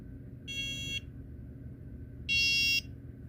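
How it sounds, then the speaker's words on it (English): Two electronic buzzer tones from an Arduino traffic control system, each about half a second, separated by a pause; a harsh, steady beep over low background hum, the second slightly louder. "Now when this finishes a cycle, it switches to this buzzer."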